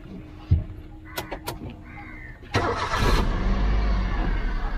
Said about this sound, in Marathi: मशीन चालू झालेली आहे